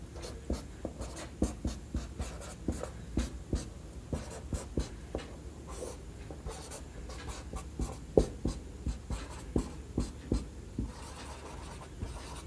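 A pen scratches out a vector math formula by hand in a quiet room, a steady series of short close strokes tapping and scraping at an even rhythm.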